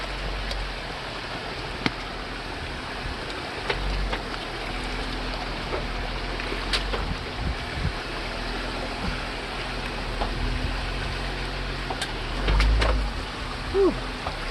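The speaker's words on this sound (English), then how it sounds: "we're just driving down the riverbed" A Jeep Wrangler JLU Sport creeping along a riverbed on an off-road trail, a steady low engine rumble mixed with crunching gravel and water splashes under the tires, with a few sharp knocks and a heavier thump near the end.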